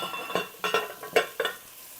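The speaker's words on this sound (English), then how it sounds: "Just going to saute those a little bit so they release all their flavors together" Celery and carrots are stirred as they sauté in a pan for split pea soup, a few quick scraping, sizzling strokes in an uneven rhythm, close but fairly soft.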